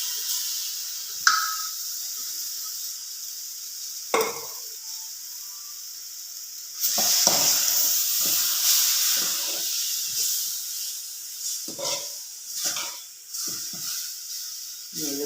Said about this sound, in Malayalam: എല്ലാം ഇട്ടൊന്ന് ഇളക്കിയിട്ട് ഈ വെന്ത് വെച്ചിരിക്കുന്ന സോയാബീനൂടെ ഇതിലേക്ക് ഇടുക.